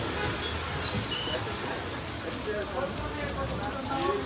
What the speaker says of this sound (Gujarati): અહીંયા 2 દિવસથી વરસાદ એમનેમ ચાલુ છે.